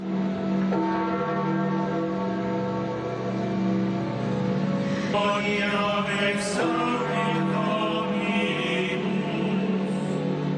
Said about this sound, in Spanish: comenzó su lenta y solemne marcha al ritmo del repique de las campanas